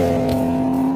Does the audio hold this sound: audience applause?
no